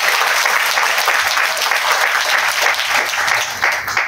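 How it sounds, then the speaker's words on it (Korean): Sustained audience applause at an anniversary ceremony and academic forum, a steady, dense clapping from a large hall crowd that stays loud throughout with no voices on top. "저희들이 감사하는 마음을 담아서 박수로라도 한번 인사를 드리겠습니다."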